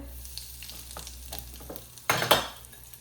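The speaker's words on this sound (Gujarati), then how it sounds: "રાઈ ફૂટી જઈએ એટલે હવે નાખી દઉં જીરું" Mustard seeds, cumin and asafoetida crackle and sizzle in hot oil, with a burst of loud popping spitting near the end, up close and without talk.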